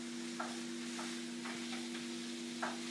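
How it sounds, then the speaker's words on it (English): Ground beef frying for a taco salad and being broken up with the back of a spoon: a steady close hiss of sizzling, punctuated by a few soft spoon scrapes and taps, with no talking. "what you're going to do with the beef is you're just going to use the back of your spoon to help break it up into pieces"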